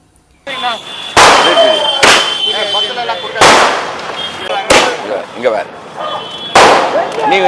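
Firecrackers burst in a street celebration, five or six loud sharp cracks spaced about a second apart, with excited voices and chatter of a crowd between the blasts.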